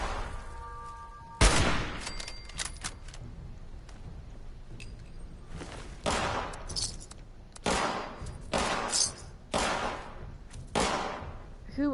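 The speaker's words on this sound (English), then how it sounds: "Who else is shooting at me and from where?" Gunfire rattles in the video game Fallout 76, several loud repeated bursts of shots arriving in waves with brief gaps between them.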